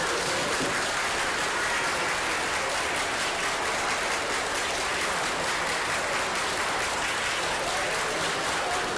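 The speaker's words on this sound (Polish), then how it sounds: "Gorąca brawa dla nas i dla uczennki." An audience at a school stage performance applauds, a dense, steady wave of clapping from many hands that holds at full strength throughout.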